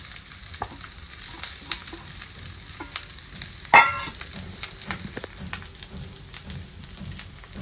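Poha being stirred in a pan over low gas, a gentle continuous sizzle with soft scraping strokes and one brief metallic clink midway, no voices.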